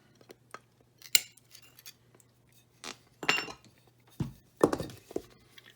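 Leaded glass pattern pieces being cut away with shears, giving a handful of sharp, separate snips and crisp clicks spaced out over a few seconds, close-up against a quiet workshop background hum.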